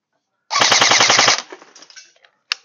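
A Golden Eagle M16A4 electric airsoft BB gun fires a loud, rapid full-auto burst of just under a second, then leaves a few faint mechanical clicks and a final sharp click.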